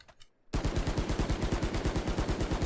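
Bulldog assault rifle fire in the Valorant shooter game: after a short quiet start, a loud, sustained run of rapid, evenly spaced shots keeps going to the end.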